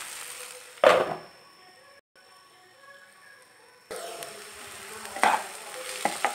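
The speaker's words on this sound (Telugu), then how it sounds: "ఉల్లిపాయలు బాగా ఫ్రై అవుతున్నాయి, బాగా ఫ్రై అయిపోవాలి." Onions frying in a pan for an egg curry, a soft sizzle that stops, then returns with a couple of brief louder stirring bursts. No one speaks.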